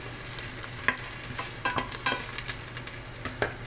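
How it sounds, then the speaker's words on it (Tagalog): Garlic and onion sautéing in a pan: a steady, soft sizzle runs throughout, broken by irregular scraping and stirring clicks from a utensil against the pan, close up with no voices. "Gisa muna natin yung ating garlic. Ayan. Tapos, i-mix natin yung ating sibuyas."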